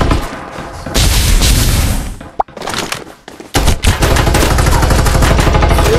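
SMG fire in Farlight 84 rattles in loud, rapid bursts, broken by a short pause, then resumes in quick repeated shots with booming impacts.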